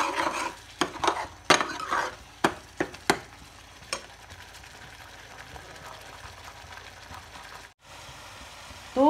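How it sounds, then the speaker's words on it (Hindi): Onions sauté over a low-to-medium flame in a pan, a spoon scraping and knocking in quick, uneven strokes before settling into a soft, steady sizzle. "तो जब तक वहाँ पे अनियन वगैरह यहाँ पे भुन रहा है ना"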